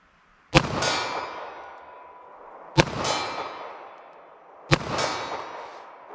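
Three .32 H&R Magnum gunshots come a couple of seconds apart, each a sharp crack followed at once by the ringing clang of a steel silhouette target, with the ring fading slowly after every hit and no talking.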